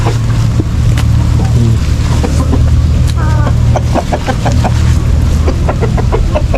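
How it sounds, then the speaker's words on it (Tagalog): Several chickens cluck in a backyard pen beside a rice field, and the three roosters there let out a crow. Steady outdoor ambience continues beneath, with a voice talking partway through. "Binababahan na nitong mga tandang. Tatlong tandang to eh."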